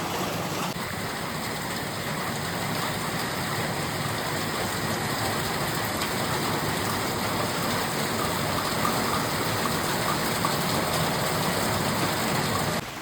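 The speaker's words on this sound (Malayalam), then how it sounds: "ഞാൻ ഭയങ്കര ഒച്ചത്തിലാട്ടോ സംസാരിക്കുന്നത് അത്രയ്ക്ക് മഴയാണ്" Heavy evening rain in a village pours down steadily in a dense, unbroken roar that fills the whole stretch with no break.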